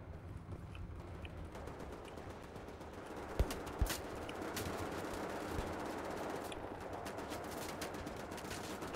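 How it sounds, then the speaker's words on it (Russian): Faint scattered gunfire in Wolfenstein: The New Order, a few sharp cracks standing out over a steady low ambient rumble of battle. "Кто там стреляет"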